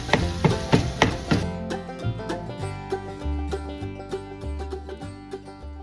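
Sausage being chopped with a knife on a cutting board for homemade pizza rolls, a run of sharp, close knocks in a quick uneven rhythm, spaced out later, with no talk.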